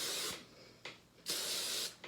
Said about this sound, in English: So I would just spray this with some hairspray.